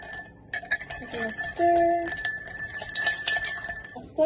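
Ice clinks and rattles in a glass as a rum old-fashioned with toasted-coconut-infused Diplomático Planas is stirred with a bar spoon, bright metallic chimes and taps up close.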